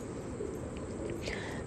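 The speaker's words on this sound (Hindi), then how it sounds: "बढ़िया बढ़िया कबूतर लेता है राकेश भाई हर बार, बहुत अच्छा कबूतर लिया इस बार भी, तीन जोड़ी।" Pigeons being shown in pairs for sale, in Howrah, West Bengal, give a few soft coos and calls against a constant, fairly loud background noise.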